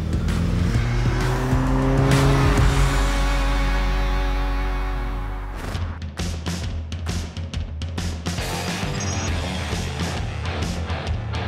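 Modified VW Golf GTIs, a tuned Mk5 and a V6-swapped Mk2, roar past loudly on a race track, engines screaming and tires squealing through a corner, then a rapid burst of revving and gear-shift pops continues.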